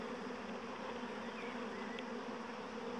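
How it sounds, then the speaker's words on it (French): Dense, steady buzzing of a honeybee swarm at the entrance of a hive, a continuous close hum that fills the clip without pause, alone with no talking. "la quantité d'abeilles a beaucoup diminué sur la façade de la ruche"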